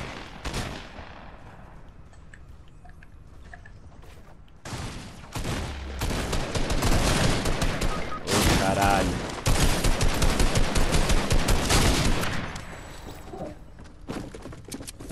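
Rapid bursts of weapon fire in the Fortnite video game, sporadic shots building into dense, loud volleys through the middle before thinning out, with a few footsteps and brief game effects around them.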